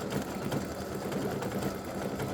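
An embroidery machine sews free-standing lace for a Christmas bow earring, satin-stitching around a circle with a steady, rapid mechanical whir and needle chatter that runs on unbroken and fairly loud, with no voices.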